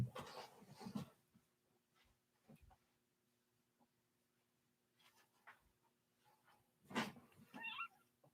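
A pet cat meows quietly indoors in a few short bursts: one at the start and a couple more near the end, separated by near silence, with no talking.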